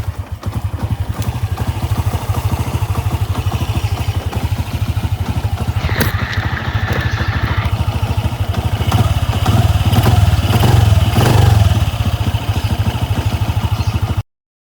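Honda Wave 125 motorcycle engine idling with its air cleaner fitted, a steady close, even low putter that continues alone throughout with faint clatter and a brief rise in the middle.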